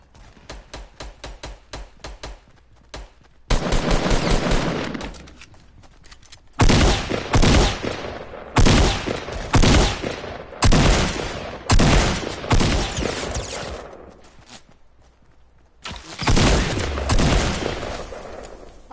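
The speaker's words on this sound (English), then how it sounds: "They keep shooting at me." Gunfire from the video game Fortnite comes in loud bursts: a quick run of single shots at first, then several dense volleys of rapid fire separated by short pauses.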